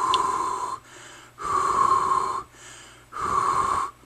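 Three long, steady breaths blown out close to a radiation counter, each lasting about a second with short pauses between, loud and near, with no talking.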